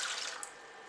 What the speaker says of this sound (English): Let's add our 3 cups of water and allow it to come up to a simmer.